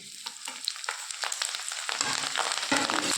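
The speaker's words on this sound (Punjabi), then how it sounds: "ਹੁਣ ਆਪਾਂ ਮਿਰਚਾਂ ਨੂੰ ਪਾ ਦਾਂਗੇ" Green chilies frying in hot oil on lowered gas heat, a loud steady sizzle and crackle that thickens into dense spattering, close up with no voices.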